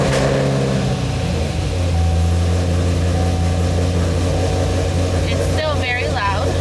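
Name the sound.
supercharged Camaro SS engine startup and idling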